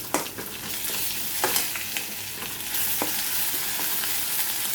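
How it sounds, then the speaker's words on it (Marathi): Garlic and cumin paste hits onions browning in hot oil, giving a steady loud sizzle with scraping stirs of a spoon through the pan, close and continuous. "आता त्यामध्ये टाकूया लसूण जिऱ्याची पेस्ट."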